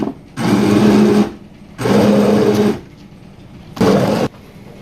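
A blender crushing chili garlic sauce ingredients in three loud bursts, a grinding motor whir that starts, runs about a second, stops and starts again, with short pauses between pulses.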